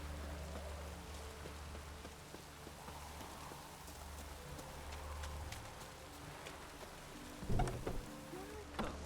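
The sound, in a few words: rain falling in the video game The Witcher 3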